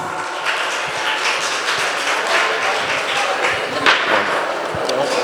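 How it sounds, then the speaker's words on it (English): A hall audience at an Asian Heritage Fest gives sustained applause for a speaker about to take the stage before an Indonesian dance, a thick, even wash of clapping with a few sharper knocks, near and loud. "A round of applause."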